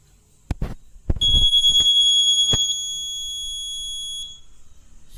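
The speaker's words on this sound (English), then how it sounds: "we will be getting some sound like this is because of buzzer" Buzzer on an electronic notice board using RS485 sounds after a message is sent: a few soft clicks, then a loud, piercing electronic tone held steady for about three seconds, dropping slightly in level before it cuts off.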